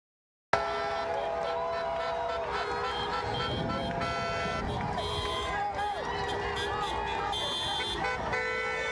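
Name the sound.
car horns honking from passing cars at a protest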